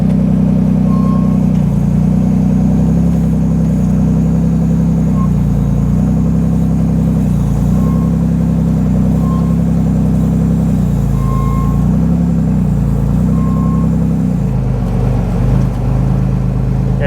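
A rear-steer off-road buggy engine rumbles loud and close as it strains up a rock wall at Sand Hollow, holding a deep steady drone with repeated rises and dips in revs over a long stretch.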